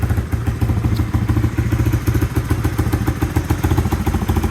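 A 1986 Honda 250ES Big Red three-wheeler engine runs steadily nearby, a loud, even low-pitched thumping with a light mechanical clatter throughout, no talking over it.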